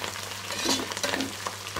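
Chopped green chillies sizzle in hot oil for a mutton biryani, a busy crackling fry close up with a few brief stirring scrapes, no voices.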